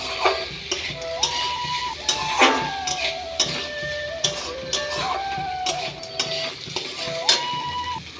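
A spoon scrapes and stirs semolina upma in a pan in irregular strokes, with soft clinks and light sizzling between the movements.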